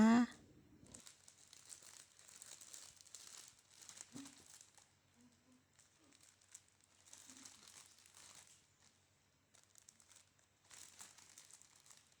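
Plastic packaging crinkles in repeated bursts as snacks are packed, the rustling coming close and moderately loud in short clusters with brief pauses between them and no speech.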